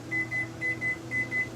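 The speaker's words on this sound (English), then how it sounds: "Oh, there's my timer, Joey." A kitchen timer beeps in three pairs of short, steady electronic tones, evenly spaced, clear and close over a low kitchen hum.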